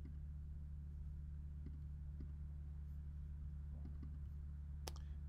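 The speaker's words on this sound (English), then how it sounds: "And then I'm going to edit that text by clicking it, double clicking it." Faint mouse clicks while editing text in Final Cut Pro X, several scattered single and double clicks over a steady low electrical hum.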